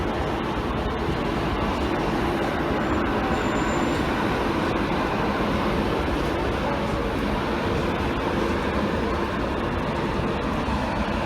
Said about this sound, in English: I've got two trains departing me right now, one arriving, one departing.